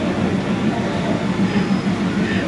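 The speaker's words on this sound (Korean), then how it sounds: "이게 허름한 기차입니다." A loud, steady rumble of an old, run-down passenger train riding along, heard from inside a carriage with no air conditioning, only fans; a continuous low drone with faint rattling and no talk.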